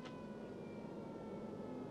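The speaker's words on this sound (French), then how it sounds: "on entend les sirènes de Courtrai" Far-off air raid sirens of Kortrijk wail faintly over a constant low rumble of wind or engine noise.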